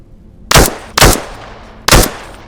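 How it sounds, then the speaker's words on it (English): Three loud, sharp gunshots in the Into The Radius 2 video game, evenly spaced about half a second apart, each with a short decaying tail, close and very loud. "gunshots are always insanely loud, deafeningly so"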